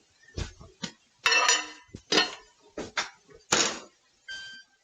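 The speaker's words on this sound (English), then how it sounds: "I'm going to just put it in my microwave for a couple minutes." A dish of butter going into a home kitchen microwave: a series of close clatters, clinks and thunks of dishware and the microwave door, separated by brief pauses, ending with a short electronic beep.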